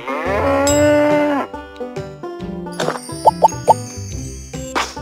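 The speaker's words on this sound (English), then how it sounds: "Cow" A cartoon cow gives one long, loud, close moo, followed by playful plops and jingly effects in a children's animal sounds lesson.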